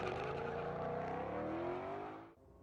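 A Ford Mustang GT500 launching on a drag strip, engine roaring loud and steady with pitch climbing as it accelerates, then cutting off abruptly near the end.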